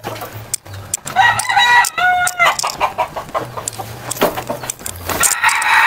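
Backyard roosters crow loudly and repeatedly, with hens clucking between the calls at close range.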